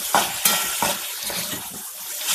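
Curry leaves sizzle in coconut oil in a pan under repeated stirring strokes, a few sharp scrapes and taps rising above the hiss of hot oil.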